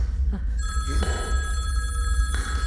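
A telephone rings with a bright, steady electronic tone starting about half a second in and holding for nearly two seconds, set in a tense horror-film scene over a low ambient rumble.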